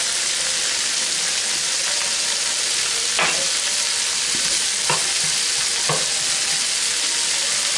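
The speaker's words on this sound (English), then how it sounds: "I'm gonna drop my garlic. I have a lot of garlic here." Plenty of garlic sizzling in a hot pan for pepper steak: a loud, continuous frying hiss with a few sharp scrape or stir clicks around the middle and end, no talking.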